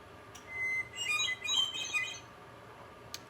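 A bird clock in a home sounds a series of chirps and tweets lasting about two seconds, moderately clear over a quiet room, followed by a brief faint click near the end.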